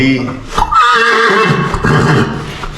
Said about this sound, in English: this is our stallion here at the farm.